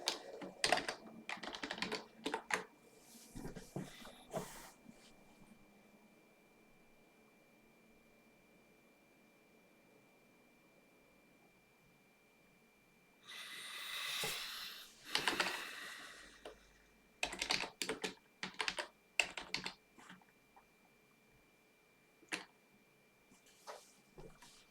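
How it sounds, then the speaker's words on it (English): Bursts of typing on a computer keyboard, clattering in short clusters with quiet gaps between them, with a longer, denser run of keystrokes in the middle and scattered taps near the end. "I'm typing in the wrong window."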